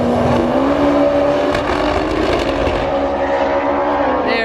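A Nissan S15 with a five-cylinder Corsa engine drives off at a GTR festival, its loud, steady engine drone holding near before the pitch climbs toward the end.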